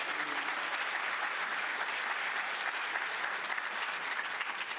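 Conference audience at the Nashville Conference on African American History and Culture applauds steadily, an even, moderately distant wash of many hands clapping without pause.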